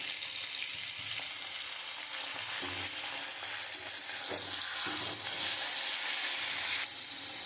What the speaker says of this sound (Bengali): এবার খুব ভালো করে আমি কষাবো